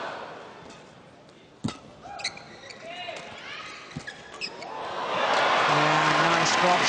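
Badminton drop shot in a 2009 All England Super Series men's singles semi-final between Taufik Hidayat and Lee Chong Wei, with a few sharp shuttle hits and squeaks over arena crowd noise and commentary that swells into loud cheering.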